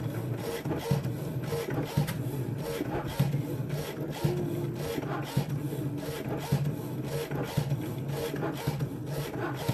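A cutting machine works through felt, slicing out intricate snowflake shapes with a steady, rhythmic mechanical rubbing and whirring, close and continuous with no voice over it.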